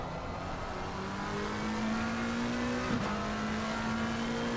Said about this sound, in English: what you might be able to hear is a lot of skirting from the car tyres of Victor's car